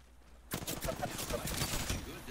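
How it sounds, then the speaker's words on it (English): Rapid gunfire from enemies in Apex Legends breaks out suddenly after a quiet moment and continues as a dense, loud burst of overlapping shots. "The enemies are shooting at me"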